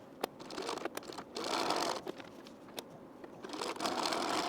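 A sewing machine stitches a 3/8 inch seam on a T-shirt in two steady runs of rapid whirring, broken by a brief pause and soft clicks, heard up close.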